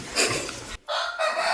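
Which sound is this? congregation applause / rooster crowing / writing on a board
rooster crowing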